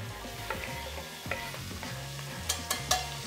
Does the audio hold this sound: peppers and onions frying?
yes